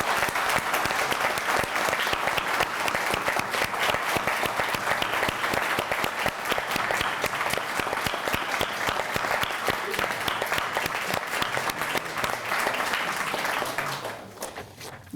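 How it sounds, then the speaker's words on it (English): A large audience at an award ceremony gives a long, dense round of applause, loud and sustained for about fourteen seconds before fading out at the end. "give a huge round of applause to pay tribute to this pioneer thinker"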